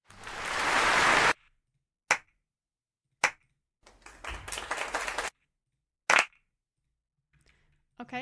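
Clapping sound effects play one after another: a sustained burst of many hands, then several isolated sharp single claps, a rougher stretch of clapping, and a final crisp clap, with silence between them.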